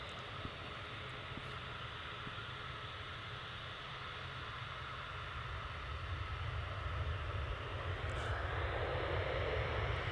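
A three-year-old Ryanair Boeing 737-8 MAX departs Manchester Airport for Marrakesh, a distant jet rumble that builds gradually toward the end as the engines grow louder.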